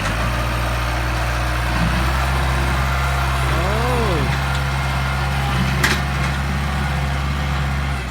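Kubota L5018 tractor engine pushing dirt, a steady low idling rumble running throughout, with a brief rising and falling whine in the middle and a single sharp knock later, fairly close.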